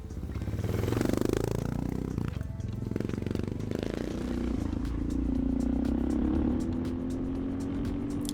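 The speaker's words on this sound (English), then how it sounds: "let's take this thing for a spirited ride and get her up to temp" Suzuki DR650 motorcycle fitted with a ProCycle jet kit ridden hard to warm up, its single-cylinder engine revving up and down loudly and close, with a rising droning pitch as it accelerates and wind noise over it.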